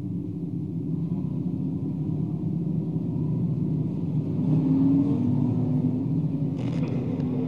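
Crate late model race cars circle at reduced pace under caution at a speedway, a steady low engine rumble with a slight rise in volume midway.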